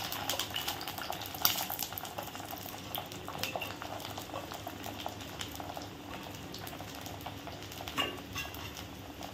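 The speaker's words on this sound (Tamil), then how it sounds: "இப்போ வந்து கடுகு நல்லா பொரியுது" Mustard seeds splutter in hot oil while Kerala-style fish curry is being made, a steady fine crackle and popping close by with the occasional clink of utensils and no voices.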